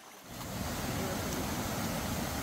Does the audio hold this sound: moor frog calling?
no